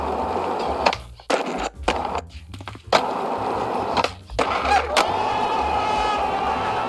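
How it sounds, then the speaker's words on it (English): Skateboard wheels grinding sideways in a power slide, a rough rolling scrape with rumbling wheel noise broken by brief gaps, fairly loud and close, without talk. "you can begin the power slide"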